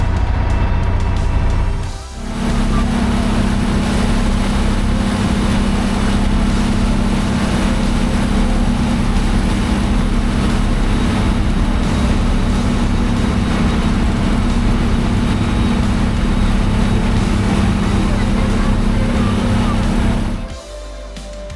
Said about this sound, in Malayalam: അങ്ങനെ ബോട്ടിൽ കയറി കുറച്ച് സമയം കഴിഞ്ഞതും ബോട്ട് സ്റ്റാർട്ട് ചെയ്തു